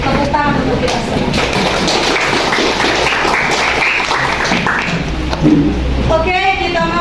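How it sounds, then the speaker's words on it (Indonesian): Applause from students in a vocational high school classroom, a dense crackle of many hands clapping steadily for several seconds, fairly close, with voices mixed in. "Tepuk tangan untuk kita semua."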